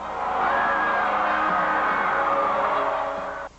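A stadium crowd of 90,000 at Mile High Stadium roars in sustained cheers and whoops as the Pope enters, a loud continuous swell of voices that cuts off abruptly at the end.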